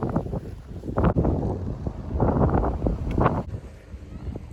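Strong storm wind gusts outdoors, buffeting the microphone in loud rumbling surges that rise and ease over a few seconds.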